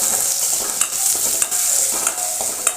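Finely chopped onion sautés in hot oil in a pan, a constant sizzle broken by repeated spoon scrapes and stirring knocks at a loose, uneven rhythm.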